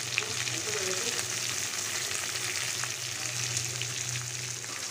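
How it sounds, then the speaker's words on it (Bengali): Dried red chillies, cumin seeds, bay leaves and onion fry in hot oil for a Bangladeshi village-style mashkalai dal with fish head, a steady close sizzle and crackle running unbroken throughout. "ফোড়নে দিচ্ছি দুইটা শুকনো মরিচ, এক চামচের মতো জিরা, দুইটা তেজপাতা আর পেঁয়াজ।"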